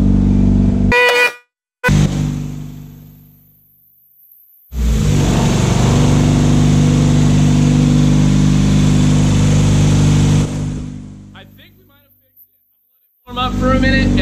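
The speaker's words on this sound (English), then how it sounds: "Car's running a lot smoother." A repaired Mazda Miata, damaged from street drifting, starts up and runs loud and steady for several seconds before cutting out, with short bursts of engine noise before and after.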